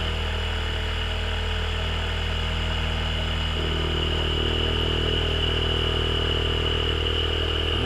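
An electric motor driving a Stan Meyer cell setup runs continuously, a steady tonal hum and whir with a slight shift in pitch partway through, constant and close, with no talk.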